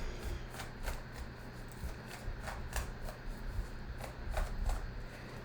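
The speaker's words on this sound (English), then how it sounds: "you see me shuffle the cards" Tarot cards being shuffled by hand, a steady run of soft papery riffles and flicks close up, with no talking over them.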